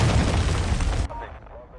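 Cruise missile explosion in Call of Duty: Modern Warfare 2, a loud close rumbling blast that holds for about a second before cutting off to quieter game sounds, with a voice speaking.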